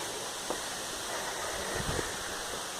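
Steady, faint broadband rushing of a waterfall on a rural farm, heard from a distance as a soft continuous hiss with a few small knocks over it and no speech.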